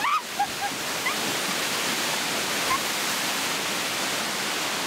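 A waterfall tied to the legend of the Seven Sisters roars steadily and loudly nearby, a dense unbroken rush of falling water with no voices over it.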